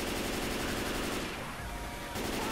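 Rapid sustained gunfire in the Left 4 Dead 2 video game, a dense loud barrage that briefly thins near the middle before resuming at full intensity.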